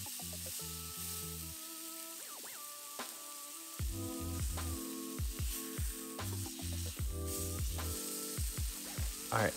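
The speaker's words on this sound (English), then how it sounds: "Make sure you hear that sizzle." A steak sears in a hot pan for a beef stroganoff, giving a continuous crackling sizzle under a pulsing low hum and scattered sharp pops.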